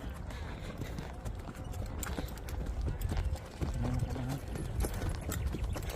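Horses walking on a guided ride carry riders along a trail, hooves clip-clopping in a steady, uneven rhythm close by, with faint voices in the background.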